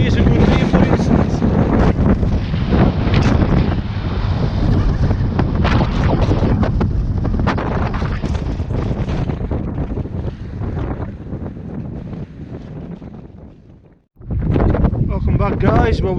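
Strong wind on an exposed hilltop in Galloway Forest Park near Curleywee roars loudly against the microphone in continuous buffeting gusts, dropping out briefly before surging back.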